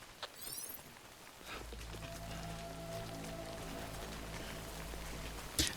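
Steady rainfall patters in the video game Death Stranding. It forms a soft, even wash over a low droning hum, with a couple of brief sharp clicks at the start and end.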